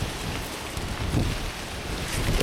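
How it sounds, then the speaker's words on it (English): Wind blowing outdoors in Ohio among cicadas, a broad rushing roar with buffeting gusts on the microphone, steady and fairly loud. "The wind is blowing, really."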